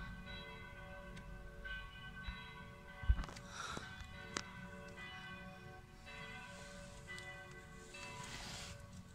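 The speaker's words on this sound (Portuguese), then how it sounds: "O sino da igreja está tocando porque vai começar a missa." A church bell in Mignano Monte Lungo, Italy, rings before Mass with a sustained, shimmering metallic tone that lingers and overlaps, heard from a distance with faint outdoor background noise.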